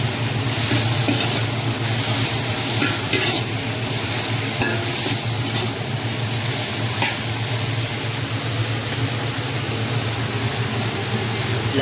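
Tofu, pork and kangkong stir-frying with oyster sauce in a pan, giving a loud, steady sizzle with scraping stirring sounds throughout.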